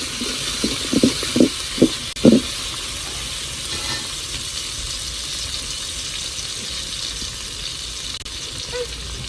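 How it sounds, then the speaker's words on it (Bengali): A spice masala fries in a pan with a steady, moderate hiss, opening with a few quick knocks and scrapes of stirring before the sizzle carries on alone. "আচ্ছা মশলাটা একটু ভালো কষে নিই।"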